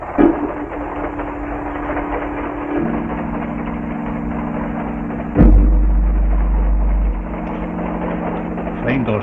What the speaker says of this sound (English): Train goes fast.